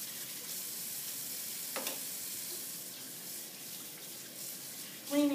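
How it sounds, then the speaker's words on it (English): Water runs steadily from a sink tap as glazing tools and a brush are washed out after glazing clay, a broad constant hiss with a few faint knocks and a brief clatter at the end. "I'm going to wash out my tools, cleaning the brush out thoroughly"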